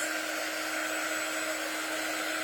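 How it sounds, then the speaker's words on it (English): A hair dryer blows continuously to dry thin craft transfers coated with a fast-drying paste, a steady close whooshing hum with a constant tonal whine and no voices. "So I'm going to just use my dryer and make sure all 4 of these are really good and dry"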